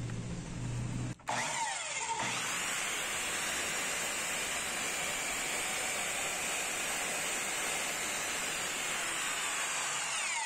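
Dexter miter saw powering up and cutting through wood at a 45-degree angle, a loud sustained whine that holds steady for several seconds after a brief start, close by with no voices.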